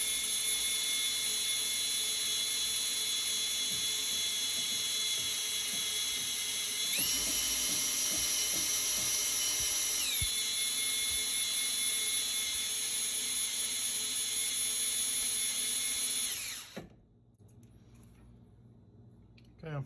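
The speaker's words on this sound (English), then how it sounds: "I'm priming my oil pump here" A drill spins the oil pump to prime it on a rebuilt Ford 289 stroked to 331 cubic inches, a steady loud high whine that rises in pitch midway, runs nearly seventeen seconds, then cuts off abruptly.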